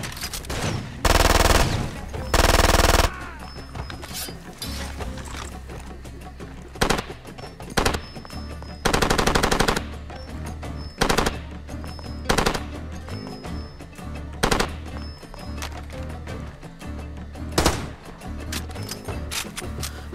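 Bursts of automatic gunfire from Far Cry 2 rattle out in loud, irregular volleys across a busy combat soundscape, with sharp single shots and longer sustained bursts scattered throughout.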